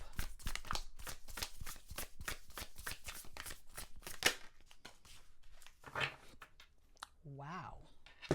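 Tarot cards are shuffled in rapid riffling bursts, close and crisp, with a soft spoken voice between shuffles.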